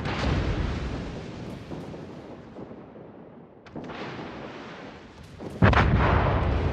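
Naval artillery in the warship game World of Warships fires in heavy booming salvos, each blast rolling into a long decaying rumble, with a loud, close blast near the end.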